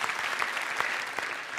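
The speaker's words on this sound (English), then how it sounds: "Give a round of applause, please, to the organizers of this thing." A keynote audience at a VR Days 2018 arts summit claps in a brief burst of dense, close applause for the event organizers.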